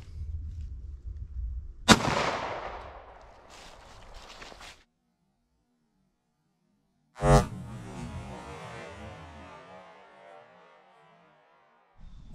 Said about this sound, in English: let's try shot number two.